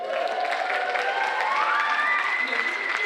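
A dense, steady roar of applause and cheering from a crowd at a school district's State of the District event, with scattered shouts rising over continuous clapping for about three seconds, close and fairly loud.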